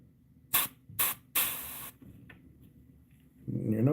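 An airbrush sprays paint onto a koi-pattern fishing swimbait in three sharp hissing bursts, the last one longer, each close and loud against near silence, followed by a faint tick and a rising low hum.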